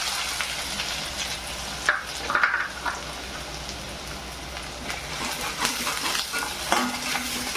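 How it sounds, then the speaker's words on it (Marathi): Chopped onion fries in oil alongside ginger, garlic and chilli for pasta, a loud continuous sizzle with crackling bursts and occasional spatula scrapes, heard close up with no speech. "तेलात हे कांदा टाकून घेऊ"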